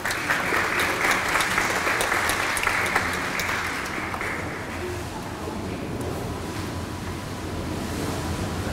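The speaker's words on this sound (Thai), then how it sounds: "ขอเสียงปรบมือต้อนรับ" Audience applause welcoming a speaker at a Thai internet history event, a dense, continuous wash of many hands clapping in a hall that holds steady throughout and is heard alone.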